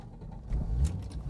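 A 1986 Audi Quattro UR engine idles at tick over, a low steady rumble that swells slightly partway through, heard close and alone without talk.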